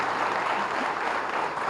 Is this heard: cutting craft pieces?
no